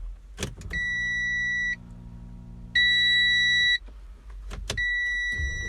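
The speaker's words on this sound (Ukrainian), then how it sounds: "коли повертаєш ключ, включаєш запалення, якась штука пікає" Inside an Audi A6 3.0 TDI, a pair of electronic beeps sounds twice as the ignition is switched on, a steady tone with a gap between, preceded by clicks and a brief mechanical whir.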